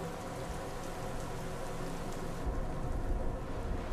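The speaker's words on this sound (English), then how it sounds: "It's even raining." Steady rain falls throughout in a video game scene, a dense, even hiss of drops that holds at a constant level from start to finish with no voices.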